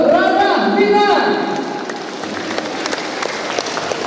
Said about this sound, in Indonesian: Boleh tepuk tangan yang banyak-banyak untuk Rana Minang.